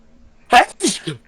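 A single sharp sneeze bursts out close to the microphone, followed by a brief voiced exclamation, then quiet.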